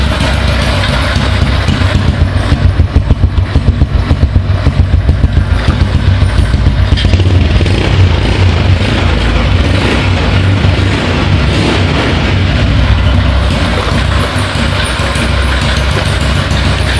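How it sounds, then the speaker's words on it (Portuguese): A small Dafra Zig 50 motorcycle fitted with a Honda Biz engine idles steadily up close, a loud continuous putter with a rapid even pulse and no voices. "por enquanto, ó, a moto tá funcionando"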